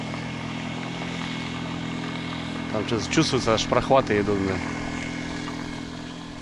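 A small outboard boat motor, about 5 or 6 horsepower, hums in a steady, even drone on a fishing trip, with someone talking briefly over it midway.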